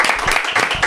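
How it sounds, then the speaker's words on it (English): Audience applause breaks out for NFL quarterback Russell Wilson, a dense, steady wash of clapping lasting under a second, close and fairly loud with no voices over it. "Let's give a round of applause for the one, the only Russell Wilson."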